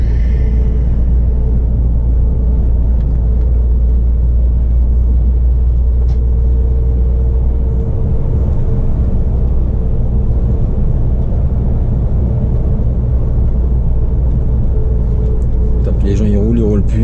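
A car driving along a road gives a steady low engine and tyre rumble that lasts throughout, with muffled voices faintly present.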